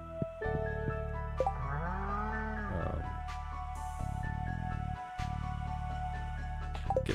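A cow in Stardew Valley gives a long, loud, drawn-out moo over a continuous game music bed, with the tones bending upward and then falling away before the background music carries on alone.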